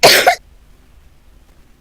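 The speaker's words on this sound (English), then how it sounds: "That was adorable cough" A single close, sharp cough bursts out at the start and fades into near silence, with a tiny click at the very end.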